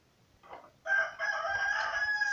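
Backyard chickens kept at a home: a few soft clucks, then a rooster lets out one loud, close crow that holds for over a second.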